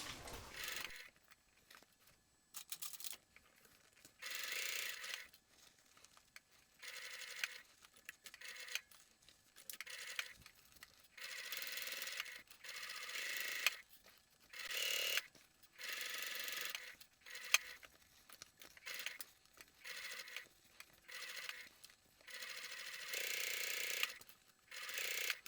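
Domestic sewing machine running a 2.5 mm construction stitch along a seam with a 1 cm allowance, heard as repeated bursts of rapid mechanical whirring and clicking separated by short pauses, close and clear with no talking.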